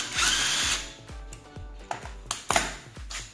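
An impact wrench loosening a nut on a motorcycle, firing in a steady burst of rapid hammering, then several short repeated bursts, loud and close with no speech.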